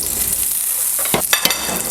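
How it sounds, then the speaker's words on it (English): Butter sizzling in a pan heating over medium heat for French toast, a bright continuous hiss with a few quick scraping and tapping knocks near the end. "we're heating up our pan again with some butter"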